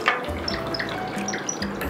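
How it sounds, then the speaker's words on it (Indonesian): Bottled gallon water being poured into a glass gives a brief, close, faint trickle and splash with a few small drips, alone in a quiet room. "Lalu di sini 1 gelas akan Mami masukkan air galon kemasan di rumah Mami yang selama ini Mami pakai."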